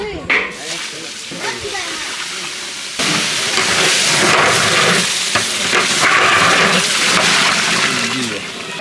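Hot water poured onto fried rice grains in a pot for chicken biryani sends up a loud, sudden hissing sizzle that swells and stays steady and close, with bubbling and scraping and a voice heard faintly early on.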